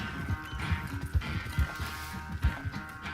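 A horse's hooves clip-clop in the video game Red Dead Redemption 2, a series of distinct thudding steps at an irregular trotting rhythm, fairly close and clear over faint background noise.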